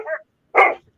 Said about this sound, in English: the dogs have learned to howl like coyotes